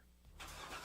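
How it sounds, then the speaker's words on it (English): A Corvette sports car engine turns over and swells into a louder mid-range roar, building within a moment and heard close with no voices. "That's the sound of America's only sports car."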